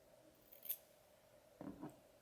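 Sharp scissors snip the ends off curly hair, two quiet, close cuts about a second apart against a still background.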